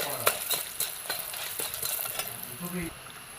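Three dried chillies frying in hot oil in a pan while being stirred, a faint sizzle punctuated by sharp clinks and scrapes of the spoon against the pan.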